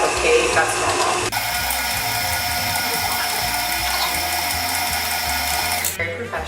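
Electric mixer whirring at high speed through cookie dough, a loud steady mechanical drone with a gear-like rattle, shifting pitch at the start and trailing off at the end.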